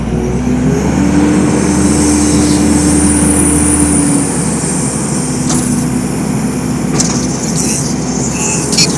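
A 2015 Kubota SVL90-2 rubber-track skid steer loader with a cab runs its engine in a loud, steady drone. The rumble holds constant throughout, with a few brief clanks near the end.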